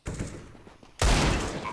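A burst of loud gunfire from a video game cuts in abruptly after a second of noisy background, dense and sustained to the end.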